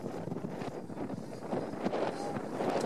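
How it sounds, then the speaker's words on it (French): Steady wind blowing head-on across an open race course, a broad rushing roar buffeting the microphone throughout and growing slightly louder toward the end. "on a le vent absolument de face"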